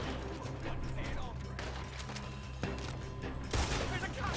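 Bursts of video game gunfire, sharp repeated shots and clattering mechanisms, crack out over a busy backdrop, with a loud volley near the end and a person talking throughout.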